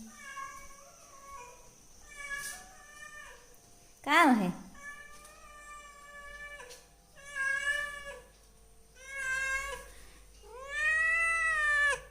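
On a village farm, a cat meows repeatedly, several drawn-out calls with short pauses between them, one rising into a sharper yowl, with a person speaking briefly.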